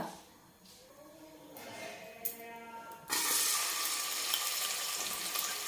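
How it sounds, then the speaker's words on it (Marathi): Chopped onion dropped into hot oil in a pot for kandari mutton, breaking into a loud, broad sizzle that holds steady after a few quieter clinks and hisses. "छान तेल गरम झालं की आपल्याला याच्यामध्ये टाकायचा आहे कांदा"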